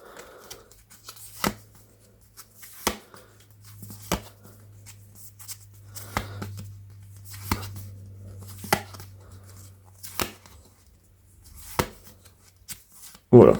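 Collectible Spider-Man cards slide and shuffle out of a premium steelbook as hands handle them, with sharp card snaps recurring every second or so over a steady low hum.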